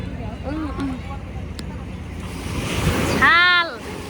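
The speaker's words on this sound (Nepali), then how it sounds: "छाल चाहिँ राम्रो रहेछ। हामी छाल उड्दो रहेछ।" Waves on Bharat Taal lake slosh and wash against a moving boat, with wind buffeting the microphone and people talking over the water noise.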